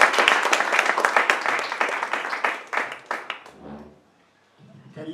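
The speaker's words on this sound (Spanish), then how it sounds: "Un aplauso para Alfredo." A room full of people applauds Alfredo at a memorial tribute, dense close clapping that thins out and fades to near silence before a faint murmur returns.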